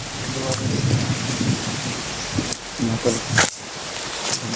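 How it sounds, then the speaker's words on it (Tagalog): Steady rain hisses in the background while low rumbles of thunder roll through, with a few sharper cracks near the end. "Ulan na po yata."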